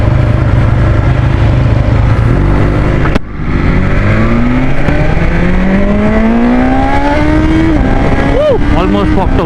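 A BMW S1000 XR motorcycle accelerates hard, its engine screaming loud and close, with a brief dip at a gear change before the pitch rises again and again. Wind roar sits under it, and a rider's voice cuts in briefly near the end.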